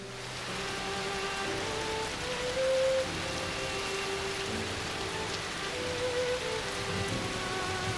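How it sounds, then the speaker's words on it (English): Rain falling at a church in the slums in the video game Crisis Core, a steady even patter with soft music-like tones running faintly beneath it. "In the church within the slums, Aerith, now adorned in a pink dress, tends to the flowers as rain falls"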